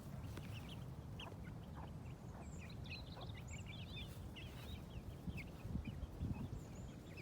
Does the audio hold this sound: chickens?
yes